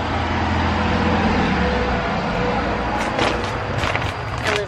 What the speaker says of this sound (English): you can hear a lot of cars going by